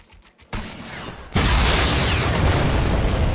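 A loud explosion in Fortnite's High Explosives mode, a sudden broadband blast that rises in two stages and then sustains as a dense roaring rumble, with no talking.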